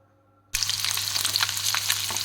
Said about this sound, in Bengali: ডিমগুলোকে আমি ভেজে নেব একটু লাল লাল করে।